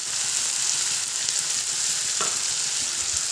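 Turmeric powder and salt being stirred into food in a cooking pan, a steady close sizzle of frying throughout with a brief scrape of the spoon near the end.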